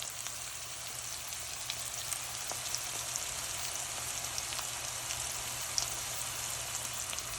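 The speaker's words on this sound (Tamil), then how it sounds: "இப்போ வெங்காயம் ஓரளவு வதங்கி விட்டது" Onions sautéing in a pan for fish curry, an even, hissing sizzle that holds steady and fairly faint, with scattered light pops and a low background hum.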